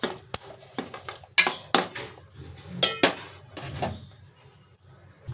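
A utensil stirs fish curry in a cooking pan, giving sharp metallic clinks and scrapes in an irregular rhythm, loud and close, with no talking over them.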